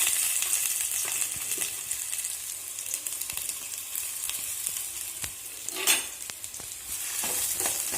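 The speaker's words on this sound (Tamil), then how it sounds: "எண்ணெய் காஞ்சோடனே இந்த வெங்காயத்தை போட்டுருங்க" Onions hit hot oil in a pan for pepper chicken curry, giving a close, bright, continuous sizzle with crackling pops and a few spatula scrapes, with no voices over it.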